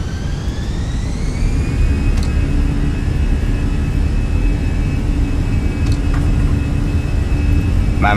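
Airbus A320 engines in MSFS 2020 spool up for takeoff, a loud, steady jet roar with a whine that climbs in pitch and then holds high, a few faint clicks, no talking.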